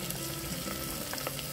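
Spices such as coriander powder, red chilli powder and kitchen king masala fry in a pan with a soft, steady sizzle and faint stirring, heard briefly and without talk.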